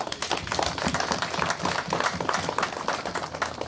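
Dense, steady audience applause honoring police and troops at a public gathering, many hands clapping together in a continuous wash, fairly close and even in loudness for the whole stretch.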